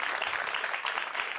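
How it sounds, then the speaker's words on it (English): Applause from an audience at a wine tasting and conversation event, a dense steady wash of clapping that holds at an even level throughout and carries no speech. "Round of applause."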